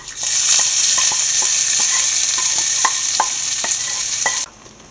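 Roasted coconut tempering poured hot into a pot of pumpkin and cowpea erissery, giving a loud, steady sizzle and bubbling hiss with faint stirring clicks that cuts off abruptly near the end.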